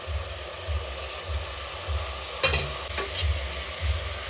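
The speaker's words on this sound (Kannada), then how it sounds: "ಇವಾಗ ನಾನು ಹೆಚ್ಚಿಟ್ಕೊಂಡಿರೋ ಟೊಮೆಟೊ ಹಾಕ್ತಾ ಇದ್ದೀನಿ." Chopped tomatoes fry in a pan with a continuous sizzle and two sharp stirring clatters midway, over a low, rhythmically pulsing background hum.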